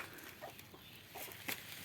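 Faint chicken clucks in an outdoor one-rai home garden, a few soft calls over steady background hiss.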